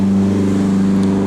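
A drift car passes close by, its engine note loud and sustained with a steady droning hum throughout the brief moment.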